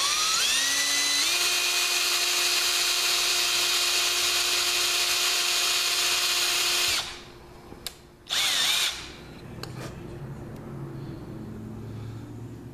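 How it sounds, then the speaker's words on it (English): A high-pitched power drill whines steadily for several seconds, grinding through the metal coil holder of a JoyTech eGrip, then cuts off, followed by a brief restart and quieter handling sounds. "I'm going to start drilling through the coil holder"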